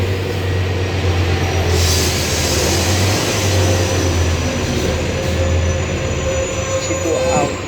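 A Scania CB696 articulated city bus drives on an urban route, a steady loud low engine drone and road rumble running throughout with a brief brake hiss near the end.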